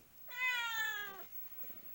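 A house cat gives one clear, drawn-out meow close by at a rural home in the Philippines, a single tonal cry of about a second that stands out against a quiet background.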